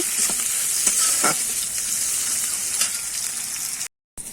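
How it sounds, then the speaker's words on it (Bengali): Tomato fries and softens in a pan, producing a continuous, close sizzle with occasional stirring clinks. A brief dropout of silence comes near the end. "আমি আর একটুখানি ভেজে নেবো টমেটোটা এখনো নরম হয়নি আর একটু নরম করে ভেজে নেব"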